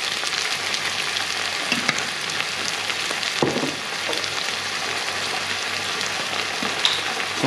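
Tinned tomato pulp sizzles and hisses in a frying pan for Maltese baked rice, a steady close frying sound with light stirring noises throughout.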